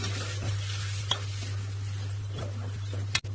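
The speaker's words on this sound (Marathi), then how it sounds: "सर्व मसाले मस्त तळून घ्यायचे आपल्याला" Ground spices, homemade garam masala and coriander powder, fry in a pan with a steady close sizzle, broken by occasional stirring scrapes and a sharp knock near the end, with no voices.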